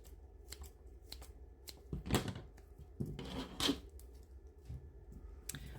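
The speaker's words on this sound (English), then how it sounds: "just get your scissors and just trim off some of the excess" Scissors trim excess foam clay in a few quiet, close snips, with soft handling rustles around them and no talk.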